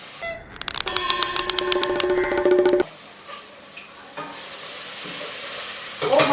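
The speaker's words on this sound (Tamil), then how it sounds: "பச்சை மிளகா வெங்காயம் கோல்டன் ப்ரௌன் ஆக போகுதுடா" Onions and green chillies frying toward golden brown for chicken biryani, opening with a loud ringing metallic rattle before a quieter steady sizzle with occasional stirring scrapes and clatters.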